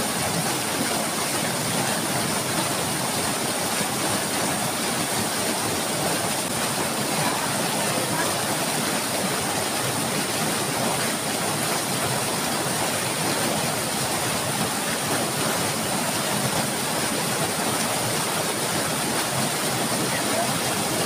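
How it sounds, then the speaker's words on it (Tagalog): A strong river current rushes steadily and loudly throughout, a dense unbroken wash of water noise close by with no pauses. "Napakalakas yung agos."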